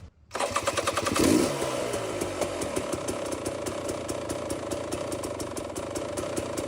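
A cold engine fitted with an XTNG GEN3+ carburetor starts and runs steadily without choke, a loud, continuous mid-pitched rattle with rapid firing pulses that holds level throughout.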